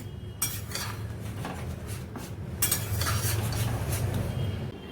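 Spoon stirring a vegetarian curry with mustard-poppy paste in a pot, soft scraping and clinking against the metal over a low simmering bubble, with a louder burst of utensil contact midway; no talking.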